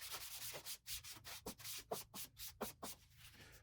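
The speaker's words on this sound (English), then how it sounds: "We'll squirt a bit on and then rub it on." Tissue rubbing garnet shellac onto sanded beech makes soft, close scrubbing strokes, about a dozen back-and-forth rubs in an even rhythm, with no voice over them.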